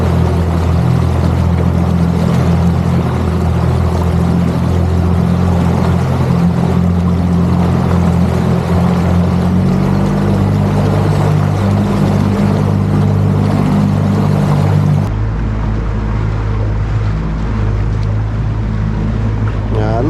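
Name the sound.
boat motor running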